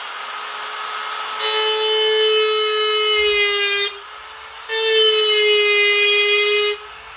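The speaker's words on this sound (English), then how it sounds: "So I'm using a Dremel with a diamond tip, a little ball." A Dremel rotary tool with a small diamond ball tip grinds marks into a stainless steel skillet, giving two sustained high whining bursts of about two and a half seconds each, with a short pause between them.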